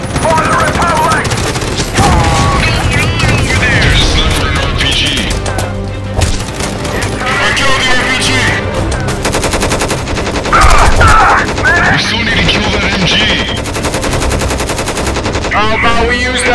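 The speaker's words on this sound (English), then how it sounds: "Shots fired, send in the boys." Sustained machine-gun bursts and rapid gunshots from real firearms fill a chaotic firefight, with loud continuous volleys throughout and voices shouting over the shooting.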